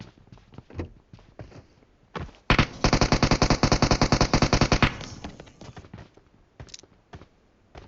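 A long automatic burst in PUBG Mobile on the Erangel map, about two seconds of steady, rapid shots at close range, framed by scattered single shots and clicks before and after.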